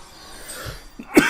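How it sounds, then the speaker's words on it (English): A single sharp cough near the end, close and fairly loud, after a stretch of quiet background. "I try not to cough into the mic too much"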